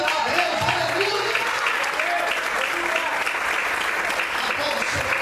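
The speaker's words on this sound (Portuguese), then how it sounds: "Quantos podem aplaudir o Senhor?" Church congregation applauding the Lord during a sermon, continuous full-room clapping with scattered voices and cheers mixed in throughout.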